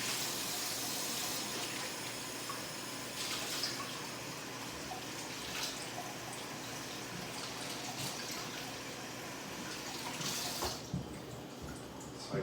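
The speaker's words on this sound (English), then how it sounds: "So I wash that, and then I wash pieces of it as well, because cilantro can be very dirty" Fresh cilantro rinsed under a running kitchen tap, a steady broadband rush of water with light splashing and a few drips, moderately loud and continuous throughout with no talking.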